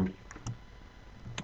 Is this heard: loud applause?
no